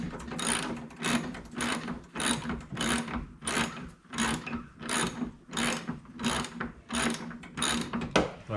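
Ratcheting clicks from a wrench tightening nuts on an Agri-Fab tow-behind spreader, coming in short repeated bursts about once a second, close and fairly loud, with no one speaking.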